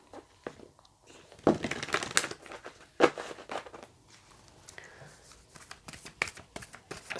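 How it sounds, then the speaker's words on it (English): Oracle cards from a Postcards from Spirit deck are shuffled up close, with several quick riffling bursts and soft card slaps separated by short pauses, alone without speech. "let's get you a final card of guidance from the postcards from Spirit deck"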